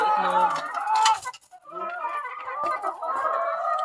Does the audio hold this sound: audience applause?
no